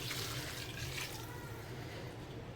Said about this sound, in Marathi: आता यामध्ये आपण जे गरम झालेलं पाणी आहे ते घालून घेणार आहोत